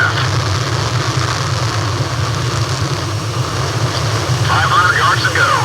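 Steady roar of jet aircraft engines in the Ace Combat Zero video game, a dense continuous rumble with a low droning hum, while a voice speaks over it near the end.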